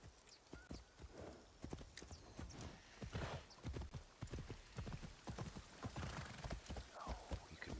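Horse hooves clip-clop steadily in Assassin's Creed Shadows, a quick uneven patter of close, fairly loud strikes with a brief whinny, set against a busy game soundscape.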